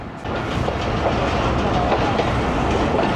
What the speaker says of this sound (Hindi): ये कुछ कोचेज़ हैं कराकरम एक्सप्रेस की, वो शंट हो रहा है